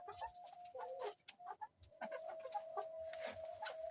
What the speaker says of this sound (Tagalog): ito yung mga manok ko guys.